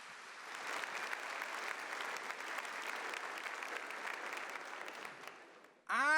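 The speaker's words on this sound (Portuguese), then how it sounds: "Give a big clap." Audience at a Catholic charismatic gathering claps steadily in sustained applause that fades slightly near the end, followed abruptly by a burst of loud music or voice.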